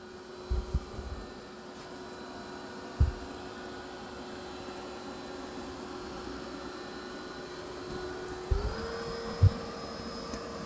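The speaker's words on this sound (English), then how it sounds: "Now it's going to go into its vacuum and mop." A Dreame X60 Ultra robot vacuum runs steadily while vacuuming and mopping, a constant motor hum with a rising pitch step near the end, punctuated by a few soft bumps and clicks.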